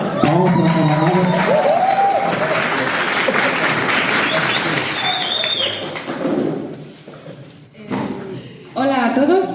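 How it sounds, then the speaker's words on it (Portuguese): Audience clapping and cheering for a speaker at an international communist camp gathering, a burst of loud applause that fades out, with voices speaking over the start and end. "Palmas para a camarada."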